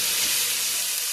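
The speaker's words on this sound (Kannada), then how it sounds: "ಬಟಾಣಿ ಹಾಕೊಂಡು ಚೆನ್ನಾಗಿ ಮಿಕ್ಸ್ ಮಾಡ್ಕೊತೀನಿ" Cut vegetables and peas stir-fried in hot oil for vegetable pulao, a loud, close, continuous sizzle with a steady frying hiss and no voices.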